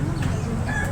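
An Asil cross rooster clucks softly and steadily nearby, low and continuous for under a second, with faint background noise.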